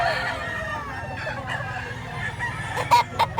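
A couple of short rooster calls and clucks rise near the end over a low, steady background hum.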